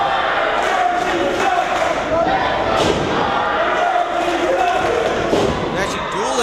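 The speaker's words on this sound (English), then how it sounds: "Let's Go Connor chant breaks out in the World Gym Arena" A wrestling crowd at the World Gym Arena chants for Connor Hollomon, loud and continuous, the massed voices forming a sustained roar with rhythmic swells and thumps from the ring, under a commentator's voice.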